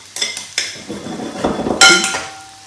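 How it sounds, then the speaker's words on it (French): Raw asparagus and broccoli salad being tossed in a bowl, with several sharp utensil clinks and scrapes against the dish, close and fairly loud, then a brighter ringing clatter near the end. "on mélange vraiment bien notre petite salade crue"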